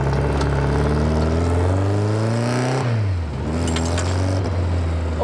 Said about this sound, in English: It drives in a straight line and it turns.